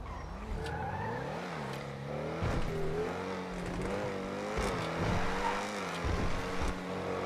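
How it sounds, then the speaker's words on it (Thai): A car engine revs and roars, pitch rising and falling as it accelerates, heard somewhat distantly with rumbling road noise. "โอ้ยเฮียเสียงเครื่องมันลั่นอะไรขนาดนั้นน่ะ"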